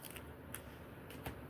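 Playing cards being shuffled by hand during a tarot-style card reading, quiet riffling bursts and soft flicks at close range over a low background hiss.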